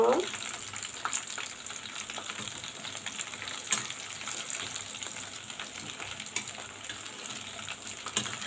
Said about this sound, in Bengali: তেলের মধ্যে দিয়ে দিব সবগুলো তেলের মধ্যে দেওয়া হয়ে গেছে ভালো করে এক পিট ভেজে নিব